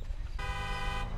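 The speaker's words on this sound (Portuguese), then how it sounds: "Opa, tá vindo a buzina, hein?" A car horn honks in GTA 5, a sustained steady blast that starts partway in and runs for most of the clip, loud over a low rumble of engine and street noise.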